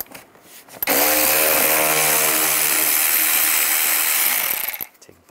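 A power tool with a T20 socket whirs loudly and steadily for about four seconds, removing the front bumper screws on a 2010-2017 Chevrolet Equinox, close up, with brief handling clicks before and after.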